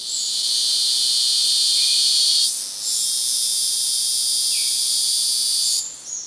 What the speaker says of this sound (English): this is not the case for the cicada of French Guiana